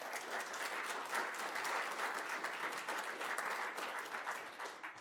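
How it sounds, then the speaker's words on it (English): Sustained applause from a conference audience at a law and technology crash course, a dense steady wash of many hands clapping that stays even and fairly distant throughout, with no voices over it. "Please give me a round of applause."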